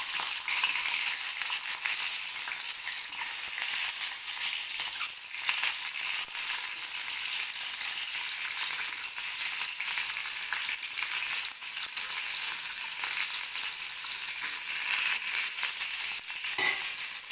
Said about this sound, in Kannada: ಈ ಎಣ್ಣೆ ಒಂದು ಸ್ವಲ್ಪ ಬಿಸಿಯಾದ ತಕ್ಷಣ ಅದಕ್ಕೆ ಮೊಟ್ಟೆಗಳನ್ನ ಹಾಕ್ತೀನಿ